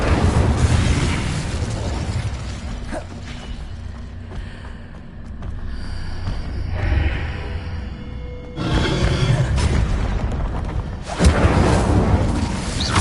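An Incendio fire spell cast in Hogwarts Legacy: loud roaring fiery bursts that swell and ebb in waves, with a quieter gap in the middle and another forceful flare near the end, no speech over them.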